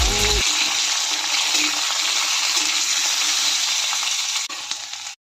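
Chilies, radish, onion and other vegetables roast in a pan over a low flame, giving a continuous close hiss and crackle that cuts off abruptly at the end.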